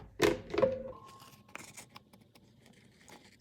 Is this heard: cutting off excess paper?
yes